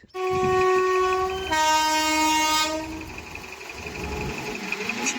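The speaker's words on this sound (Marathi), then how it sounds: "रेल्वे गेट पडला आणि रेल्वे असतो तर मग आम्ही डब्याची रेल्वे बिना डब्याची रेल्वे पाहिली" At a railway crossing with the gate down, a train horn blares loudly and steadily for a few seconds, then gives way to the rumbling clatter of a passing train.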